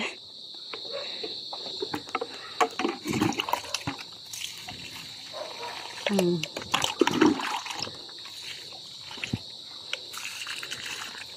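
Water poured onto parched, cracked garden soil around plants, with splashing and trickling that comes and goes, over steady insect and cricket chirping from outdoors.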